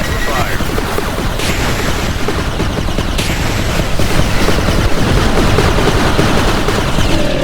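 Dense, continuous gunfire and explosive bursts from units in the real-time strategy game 9-Bit Armies, with the rattle and booms loud and sustained throughout, under occasional game voice lines.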